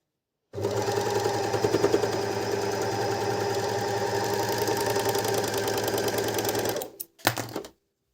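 A Janome 210D overlock machine runs continuously through a fold of fabric, a fast, even mechanical hum and rattle lasting about six seconds, then stopping with a couple of short bursts before silence.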